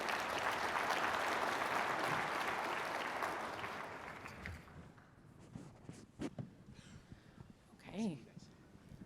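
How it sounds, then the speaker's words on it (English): A conference audience applauds panelists at a labour union gathering; the full clapping fades out after about four seconds, leaving faint room noise, scattered knocks and a brief murmur of voices. "Please, a round of applause for our panelists."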